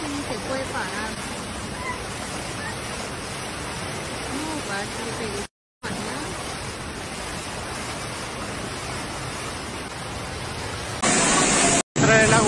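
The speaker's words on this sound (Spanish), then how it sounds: "Fuerte crecida" Loud rushing floodwater roars continuously, a dense broadband torrent with a brief cut, while a person speaks briefly in Spanish over it.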